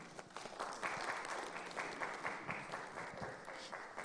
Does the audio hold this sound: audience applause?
yes